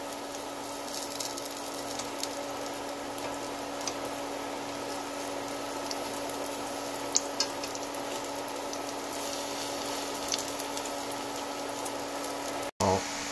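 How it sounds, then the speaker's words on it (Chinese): A pancake of elm tree blossoms fries in a pan with a continuous, even sizzle and faint crackles, fairly close. A steady low hum runs underneath, and a brief thump comes near the end. "翻锅煎另外一面"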